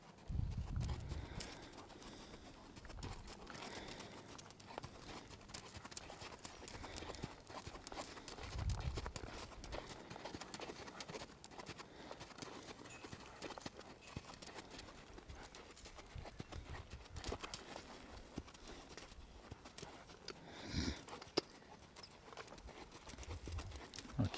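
A cow walks and speeds up during a cattle-handling training session, its hoofsteps giving a soft irregular patter of steps, fairly faint against an open outdoor background, with no voices.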